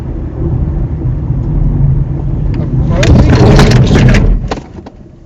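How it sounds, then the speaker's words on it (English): A car on a driving test brakes hard for an emergency stop from about 30 mph in third gear. A steady engine and road rumble rises into a sudden harsh burst of braking noise, then drops away. "I'm ready to do my emergency stop just about now."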